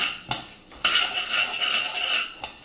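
Rice for ghee payasam being stirred and roasted in a pan, a steady scraping of a metal spoon against the pan with sharper clinks of metal on metal, close and alone.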